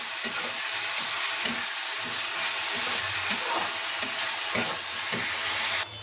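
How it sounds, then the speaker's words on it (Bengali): Spice masala for palak paneer fries in oil in a pan, a steady hiss of sizzling with occasional soft scrapes of stirring, ending in a sudden drop in the sizzle. "মশলাটা প্রায় ভাজা হয়ে গেছে বন্ধুরা, তোমরা দেখতে পাচ্ছ উপরে তেল ভেসে গেছে"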